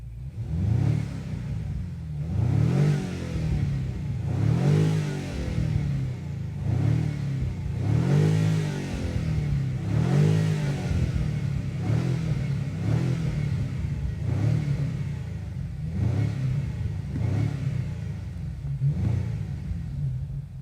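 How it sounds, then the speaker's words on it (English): A 2025 BMW M5 with its 4.4-liter V8 and exhaust open revs repeatedly, about nine rhythmic rises and falls of deep engine roar, loud and close with no talking. "Let's hear the all new 2025 model BMW M5 sound check here."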